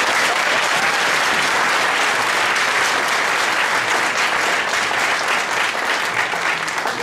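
Audience at a Fresno County district attorney debate applauds steadily, a dense, loud wash of clapping from many hands that carries evenly from start to finish.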